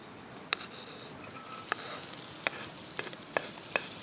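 Garlic sizzling in a pan outdoors in Kauai, a soft steady hiss broken by several sharp pops and crackles, with no voices.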